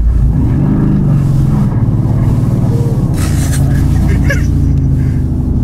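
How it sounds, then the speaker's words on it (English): A Mercedes-AMG GT R turns slow donuts on snow in a car park, its engine a loud, close, steady low rumble with slight revving, and a brief scrape or whoosh partway through. "This is the most slow motion of slow motion donuts I've ever done."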